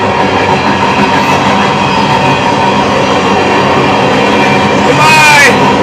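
A train rumbles by steadily with a continuous rolling clatter, loud and close, and a brief squeal near the end.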